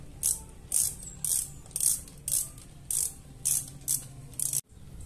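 A ratchet cranks in quick, even bursts, about ten clicking strokes, close and clear, while bolts come out of the split engine casing of a Yamaha Nmax scooter during crankshaft replacement, ending in a brief silence.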